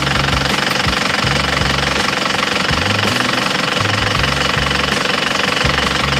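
An Isuzu Panther diesel engine runs cold just after starting, smoking; a loud, harsh rhythmic knocking clatter repeats steadily and close up, with no talk over it.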